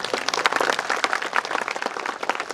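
An audience claps steadily and enthusiastically for the managing director at a school annual function, with dense, continuous applause filling the hall.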